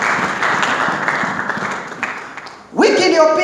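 A congregation claps for Jesus in a church service, applause rising after the preacher's speech and swelling loudly near the end.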